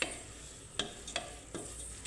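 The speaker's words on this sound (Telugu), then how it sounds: "ఇలా కలుపుకోవాలి." Spinach rice mixed with chilli powder is stirred in a pressure cooker pot, giving a faint soft sizzle broken by four or five quiet spoon scrapes, with no one speaking.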